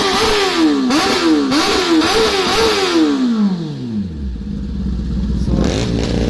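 A Honda CBR 650R motorcycle with an SC Project full exhaust revs in a series of loud, rising blips close by, then the engine note falls away to a low idle, with no talk over it.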